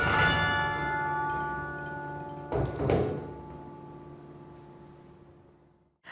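Carillon bells ring out from Beaumont Tower on the Michigan State University campus: a loud struck chord that slowly decays, a second strike midway, a long ringing tail and a new strike at the very end.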